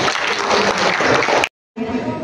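Applause from an audience at a Makassar youth regulation socialization event, a dense burst of clapping lasting about a second and a half, cut off by a short silence before another round resumes.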